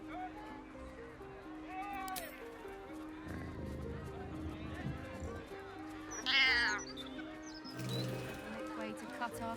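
A cat meows in Baldur's Gate 3, with a short high cry standing out partway through over a steady bed of game music and other ambient sound.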